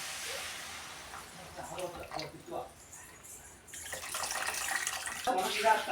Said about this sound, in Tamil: இப்போ வந்து புளி ஊற்றிட்டோம் புளி கரைச்சி வச்சது வந்து ஊற்றியாச்சு